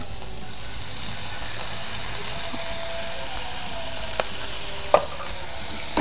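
Bean sprouts being stir-fried with fish sauce in a pan, a continuous close sizzle with occasional utensil clinks and a sharp knock near the end.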